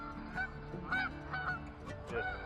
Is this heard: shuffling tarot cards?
no